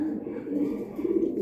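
Racing pigeons coo in a low, steady, close murmur for a moment, with no other clear sound.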